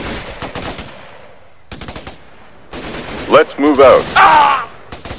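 Enemy gunfire in the Xbox 360 shooter Raven Squad: loud, rapid automatic bursts crackle in repeated volleys, with a short spoken line near the start.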